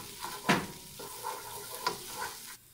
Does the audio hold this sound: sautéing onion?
yes